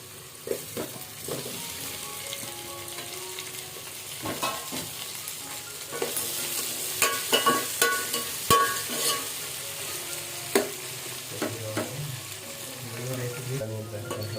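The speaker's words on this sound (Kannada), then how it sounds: "ಈರುಳ್ಳಿ ಚೆನ್ನಾಗಿ ಬಾಡಿಸ್ಕೊಂಡಾಗಿದೆ. ಇವಾಗ ಹಚ್ಚಿರೋ 2 ಚಿಕ್ಕ ಚಿಕ್ಕ ಟೊಮೆಟೊಗಳನ್ನು ಹಾಕ್ತಾ ಇದ್ದೀನಿ" Chopped tomatoes dropped into a pan of sautéed onions, frying with a steady sizzle broken by scattered stirring scrapes and clinks, for semolina vermicelli upma.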